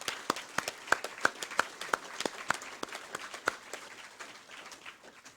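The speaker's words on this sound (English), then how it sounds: "Why don't you give them a round of applause?" A graduation audience at a high school ceremony gives the staff a scattered round of applause, with distinct individual claps popping out over thinner clapping that gradually thins and fades.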